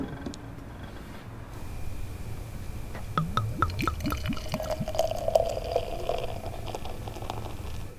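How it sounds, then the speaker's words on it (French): Craft beer uncapped and poured into a glass, a steady liquid trickle and splashing at moderate level with small clinks, continuous over a busy background. "Décapsuler et écouter couler la bière dans un joli verre"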